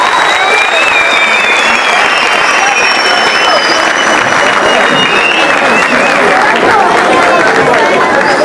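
Sustained loud applause from a large crowd at a Göztepe club facility launch event, dense clapping filling the whole stretch, with a voice and some cheering faintly underneath.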